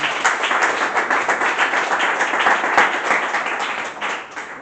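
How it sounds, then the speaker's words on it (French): A church congregation at an intercession prayer gathering in Togo claps loudly and continuously. The applause is dense and close, with a few sharper individual claps standing out, and it fades slightly at the end. "Pour cela, applaudis pour toi-même."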